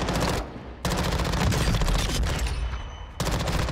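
Rapid automatic gunfire from a Warzone weapon loaded with a 50-round drum magazine, fired on the shooting range in loud sustained bursts with two short pauses between them.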